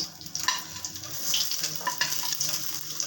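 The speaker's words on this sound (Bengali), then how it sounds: "এবার আমি দিয়ে দিচ্ছি গোবিন্দভোগ চালগুলো, একটু ভেজে নেব।" Gobindobhog rice and fennel seeds fry together in a hot pan for murighonto, a close crackling sizzle with brief stirring rustles throughout.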